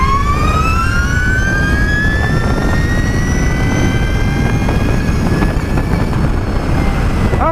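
Energica EGO electric superbike accelerating hard on good pavement, a loud steady whine of the electric motor rising steadily in pitch over rushing wind noise, close and continuous with no talking.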